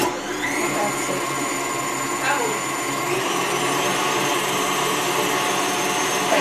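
An electric mixer whirs steadily through condensed milk cake batter, a continuous motorized drone that stays constant throughout, with a voice talking over it.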